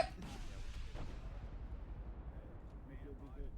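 A rocket launcher fires at an enemy tank during a military combat game, a single deep boom at the start that rolls off into a faint, fading rumble.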